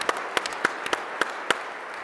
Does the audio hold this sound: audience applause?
yes